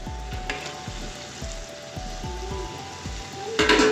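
Beef fries in spice masala for yakhni pulao, giving a steady close sizzle broken by regular soft thumps and scrapes as the meat is stirred in the pan, with no talk.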